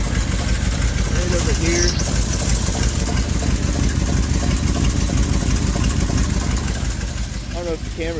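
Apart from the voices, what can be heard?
idling engine with exhaust leak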